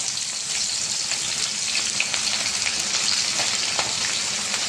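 Chopped red shallots fry in hot oil in a pan, giving a dense, steady, close crackling sizzle with small pops and no voices.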